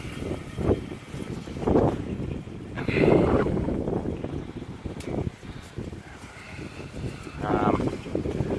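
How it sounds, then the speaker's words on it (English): Strong wind buffets the microphone outdoors during bushfires, producing rumbling gusts that rise and fall throughout, with a person talking underneath. "I'll try and get out of the wind a bit. It's really blowing up now."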